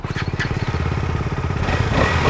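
KTM 250 Adventure motorcycle engine idling steadily with an even, close mid-pitched thrum and a slight rise in intensity near the end.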